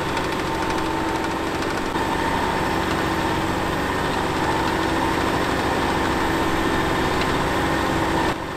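A Fendt 314 tractor engine drones continuously at close range, an even mechanical rumble with a faint whine on top, no voices and no change in pace.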